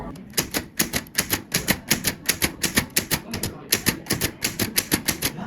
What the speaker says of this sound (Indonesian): Sayuti Melik selesai mengetik naskah tersebut didampingi BM Diah